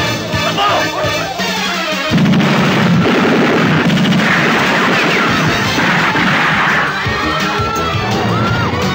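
A shootout in a 1991 Filipino action film: dense, loud gunfire crackles and bangs continuously over music and crowd commotion, with shouting mixed in.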